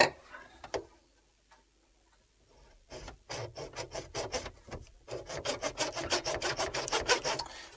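A sink drain pipe section being sawn through in the middle of a kitchen sink installation: a few scattered taps, then steady back-and-forth rasping strokes that start near three seconds and grow louder and faster, close and alone without speech.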